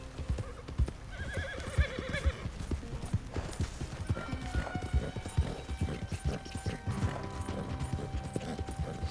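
Horse hooves clip-clop steadily in Red Dead Redemption 2 while the horse sprints, joined by a whinny and occasional mechanical clicks, with no talking.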